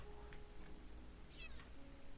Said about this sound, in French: chat, pourquoi t'es dans l'eau?